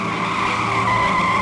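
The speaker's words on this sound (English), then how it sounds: "The sight of the massive car wreck was enough for Willard to snap" Car tires skidding and squealing on the road just before a crash: one loud, sustained screech with steady high tones for about a second and a half, heard alone.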